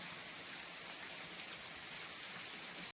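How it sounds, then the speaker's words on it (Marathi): Heavy monsoon rain pours over Alibag, a dense, steady roar of downpour so thick the nearby hills vanish, loud and unbroken with no voices. "खूपच जोरदार पाऊस पडतोय"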